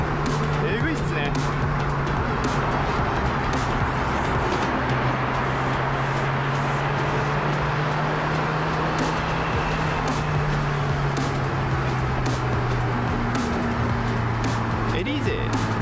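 A sub-one-tonne Lotus Elise in sport mode, its engine droning with a steady tone that climbs and holds while people talk over it inside the cabin.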